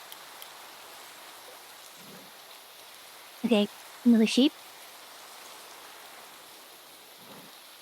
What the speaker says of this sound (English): Why can I still hear the rain?